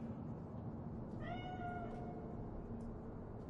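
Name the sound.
cat meowing in Cyberpunk 2077 video game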